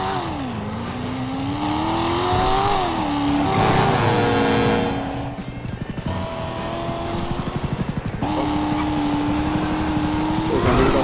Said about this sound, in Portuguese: Com o helicóptero dando rasante.